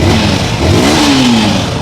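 A 2025 Yamaha MT-15 motorcycle, idling in neutral, revs loud and close, its engine note climbing and falling in a single throttle blip over a steady exhaust drone, with no talking.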